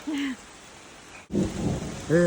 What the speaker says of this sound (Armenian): հենց անձրև է գալի, ահավոր անձրև է